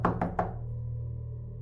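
Three quick knocks land on a door in a horror story, close and hollow and evenly spaced, followed by a low steady hum.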